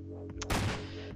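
A single shotgun blast goes off in a zombie video game, a loud broadband burst that fades quickly over a steady low droning background, with no talking.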